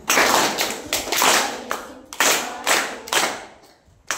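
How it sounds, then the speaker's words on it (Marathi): A crowd at a school mock-election event claps in rhythmic bursts that rise and fall several times over a few seconds. "जोरदार टाळ्या झाल्या पाहिजे।"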